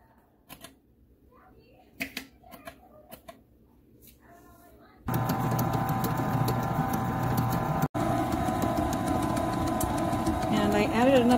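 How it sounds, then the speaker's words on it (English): A Happybuy commercial food mixer kneads dough made with manteca, salt, yeast and broth; after a few clicks and knocks it starts and runs with a steady loud motor whir, briefly interrupted. "And I will mix that in my new mixer."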